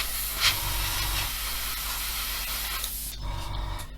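An airbrush that is sputtering and partly clogged sprays paint onto a 1/24 Airfix F6F-5 Hellcat model, a steady close hiss that cuts off sharply near the end.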